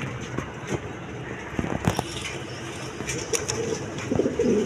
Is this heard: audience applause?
no